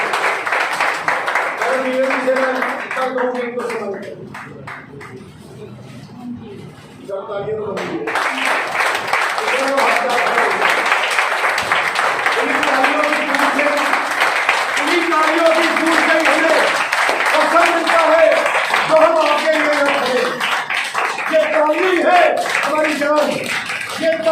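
Audience at an office meeting with a live cervical relief demonstration breaks into clapping and applause, a dense patter that rises after a brief lull and continues under someone talking over it.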